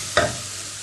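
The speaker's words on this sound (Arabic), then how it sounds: "واقوم نازله بالجزر يتشوح" Carrots hit a hot pan and sizzle as they are stirred, a steady frying hiss with one brief louder stir, close and with no voices.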